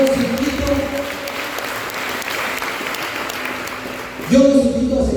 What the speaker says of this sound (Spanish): un fuerte aplauso para los compañeros